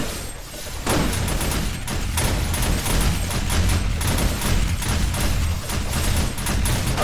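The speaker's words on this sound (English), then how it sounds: "Okay, while the turrets are doing that, I'm going to go ahead and get some more defenses." Defensive turrets in 7 Days to Die fire rapid, loud bursts of repeated shots that continue almost without a break, dense and close.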